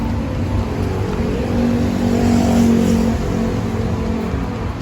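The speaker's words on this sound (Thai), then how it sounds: "เยยบเบรกกดที่ปุ่มหนึ่งครั้งนะครับ เครื่องยนต์ก็จะสตาร์ทติดนะครับ" A Honda Civic FD engine, started with a smart key push-start button, runs with a steady, close, even hum and no sharp cranking burst, holding a smooth level throughout.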